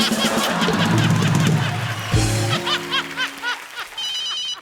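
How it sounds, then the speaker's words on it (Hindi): A phone's electronic ringtone sounds briefly in a Comedy Circus stage sketch, a short high chiming burst arriving at the end after loud laughter and music. "एक मिनट, फोन आ रहा है।"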